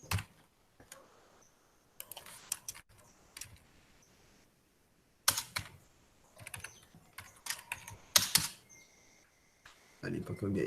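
Fingers type in quick, irregular bursts of sharp clicks on a nearby computer keyboard, with short pauses between runs of keystrokes and a few louder key presses.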